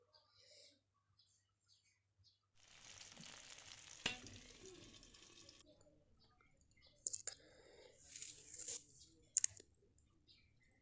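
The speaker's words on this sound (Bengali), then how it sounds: "এবার এগুলোও ভেজে নেব সুন্দর করে।" Vegetable fritters (bora) and tomatoes frying in hot oil, a soft sizzle swelling for a few seconds with a sharp clink, then faint clicks and brief chirpy sounds in a quiet room.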